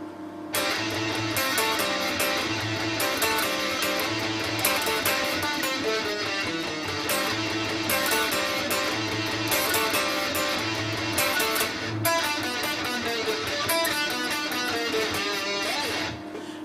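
Electric guitar plays the next section of a song with a slide, a dense, loud, continuous riff that runs steadily for about sixteen seconds with no talking.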